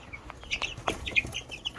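Young silver-laced Wyandotte chickens cluck and chirp softly in a coop, several short calls scattered irregularly over a quiet background, close by.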